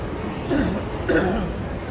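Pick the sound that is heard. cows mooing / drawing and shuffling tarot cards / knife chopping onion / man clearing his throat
man clearing his throat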